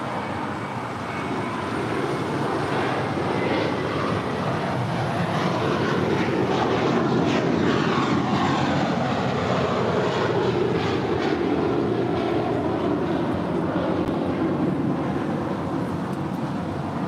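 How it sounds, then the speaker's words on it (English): An American Airlines Airbus A321 jet departs LAX for JFK, its engines building into a broad, steady roar that swells mid-pass and holds loud throughout, with no talk over it. "Up first, American Airlines Flight 238 heading to JFK"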